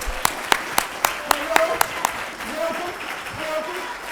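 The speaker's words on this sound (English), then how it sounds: "How about a round of applause for Melvin?" An audience at a university spring live event gives a thin round of scattered hand claps for a finalist, a handful of sharp, fairly regular claps that fade quickly as voices and murmur take over.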